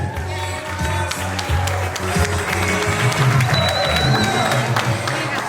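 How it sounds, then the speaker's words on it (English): Wedding guests applaud the best man, a steady crowd clapping with cheers that runs the full length over a low, booming music bed. "Big warm round of applause for the best man."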